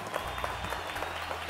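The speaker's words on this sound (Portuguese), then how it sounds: "Quero aplausos pra ele," A studio audience claps to welcome a reverend guest onto a live talk show, a steady, dense wash of applause lasting the whole moment, with a low tonal hum underneath.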